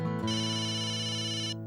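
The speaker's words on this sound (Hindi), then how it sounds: "ये सोनू का फोन है।" A mobile phone ringtone plays a sustained electronic melodic tone for over a second, loud and clear indoors with no speech over it.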